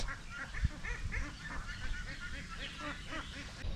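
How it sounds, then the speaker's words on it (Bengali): Loud, busy quacking from a flock of ducks, many overlapping calls close by with a brief sharp knock near the start. "হাঁস এসে একদম জায়গাটাকে একদম ছন্ন ভিন্ন করে দিয়ে চলে গেল"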